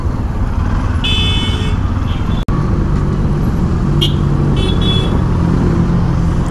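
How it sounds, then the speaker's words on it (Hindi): Heavy road traffic on a long drive toward Patna: a continuous rumble of engines and tyres, with a couple of short horn toots standing out from the steady din. "कुछ ट्रैफिक कुछ ज़्यादा ही है।"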